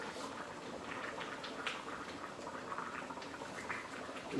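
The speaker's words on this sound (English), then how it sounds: "All right, so now we've got her into a full-blown boil." Pot of water at a full rolling boil on a stovetop for taco spaghetti, a steady dense bubbling hiss that stays even and close throughout with no voices.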